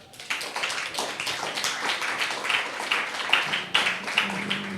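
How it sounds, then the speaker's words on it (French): A small audience claps for a speaker after a testimony at a French debate event, with scattered, distinct hand claps building into uneven applause, individual claps audible rather than a dense roar. "vous pouvez l'applaudir"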